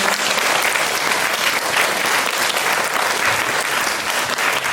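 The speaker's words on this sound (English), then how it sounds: "Can you please give them a huge round of applause?" Loud, sustained applause from a school assembly fills a primary school presentation day as student leaders are honoured: dense clapping that holds steady from start to finish, with no talking above it.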